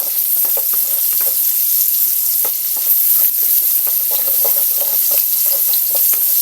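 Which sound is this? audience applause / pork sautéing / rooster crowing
pork sautéing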